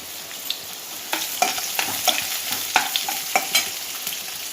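Two onions frying in hot oil for upma, a steady sizzle broken by a series of sharp stirring scrapes and clicks, close and moderately loud with no talking.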